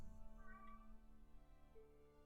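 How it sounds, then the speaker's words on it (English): A cat yelling at a door, giving a few faint, drawn-out meows from some distance, heard over a steady low hum. "my cat's yelling at the door"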